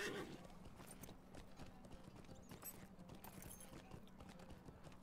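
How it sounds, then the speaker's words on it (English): A horse's hooves clip-clop at an easy, regular pace in the video game Lord of the Rings Online, a soft, quick rhythmic tapping heard throughout at low volume. "On a slow horsey."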